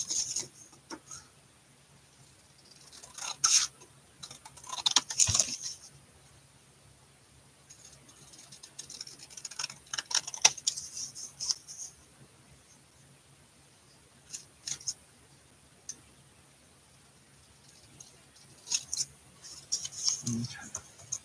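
Scissors snip through paper or card while assembling an art piece, in short rustling cutting bursts spread across a quiet room with gaps between them, loudest near the middle and end.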